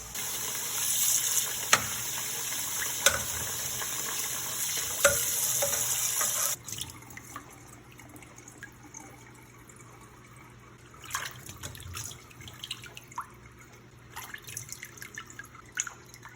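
Boiled pork cubes rinsed under a running kitchen tap, water streaming and dripping into a sink with steady splashing that quiets after several seconds into softer trickles and handling sounds.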